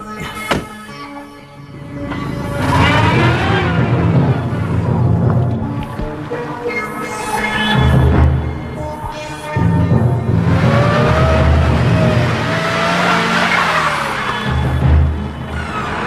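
Car driving away with engine revving and rising, shifting engine tones in repeated surges, loud and close, with some voices underneath.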